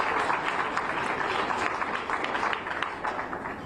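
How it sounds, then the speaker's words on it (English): Audience applause at a COSATU women's event, a dense, even patter of many hands clapping at moderate distance, steady throughout and tapering slightly at the end. "it is important that we applaud these very important people who do this type of work"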